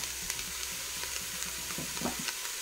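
Carrots and potatoes sizzling in a hot pot while a spoon stirs them, with soft scraping strokes over a steady frying hiss, close up and alone.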